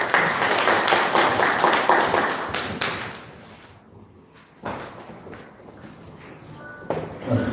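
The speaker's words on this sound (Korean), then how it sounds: "박수로 모시도록 하겠습니다" An audience at an academic conference on filial piety in Incheon applauds to welcome a speaker. The dense clapping fades within a few seconds, followed by quieter shuffling and a few scattered claps.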